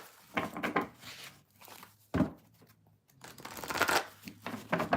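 Tarot cards are shuffled by hand at close range, with soft repeated riffling and sliding strokes in uneven bursts.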